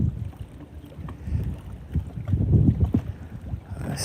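Gusty wind buffets the microphone while a fishing boat cruises slowly across open water, rumbling low and uneven throughout, with a faint splash of water beneath and no voices.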